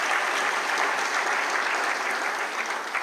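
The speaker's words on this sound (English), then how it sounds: "Please give him another round of applause." An audience at a lecture applauds the governor of Enugu State, dense sustained clapping filling the hall for a few seconds.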